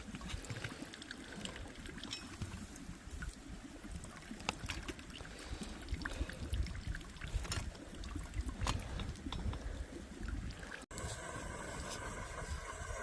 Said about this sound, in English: my water is starting to boil